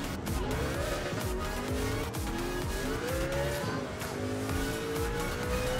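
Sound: car crash with tire squeal in the video game Gran Turismo 7

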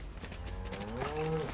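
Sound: cow mooing in video game LEGO Fortnite

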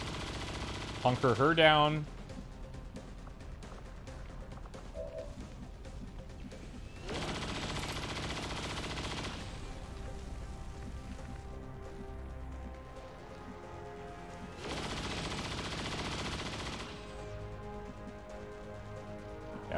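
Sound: suppressing gunfire in the video game XCOM 2

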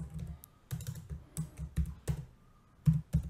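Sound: typing a workflow name on a computer keyboard

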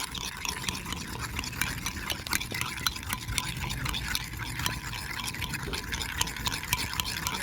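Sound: stirring egg and milk mixture in a jar

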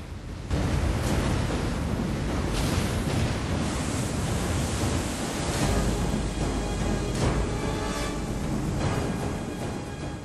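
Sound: sea waves flooding cities, scene from film The Day After Tomorrow

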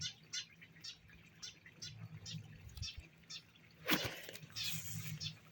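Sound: bird singing in a willow

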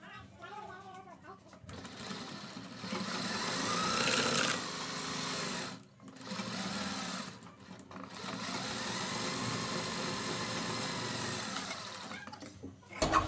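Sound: sewing machine stitching buckram onto fabric

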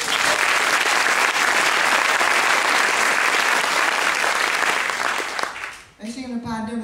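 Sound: audience applause for the conductor

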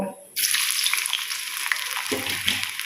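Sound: onion frying in oil with spluttered panch phoron

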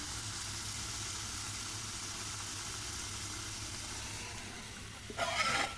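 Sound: shrimp frying in a pan for mango shrimp

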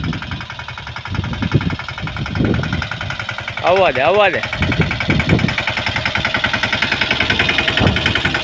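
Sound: Swaraj 717 mini tractor engine running

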